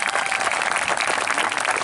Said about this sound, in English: give a round of applause to the city singers one more time